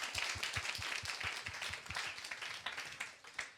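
A church congregation at a 60th anniversary service applauds, dense overlapping hand claps close by, fairly quiet and steady across the whole stretch.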